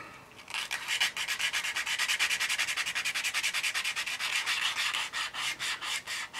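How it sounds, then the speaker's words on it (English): A sanding sponge rubbed back and forth over a seam on a scale model, quick rhythmic rasping strokes close up, a fast even series of scratchy swipes with no talking. "I'll go for the old chainsaw sanding sponge just to get rid of that seam there"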